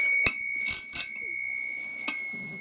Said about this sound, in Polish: tu jest taka dla piwoszy, jak piwo się skończy, że ktoś przyniósł, to dzwonek.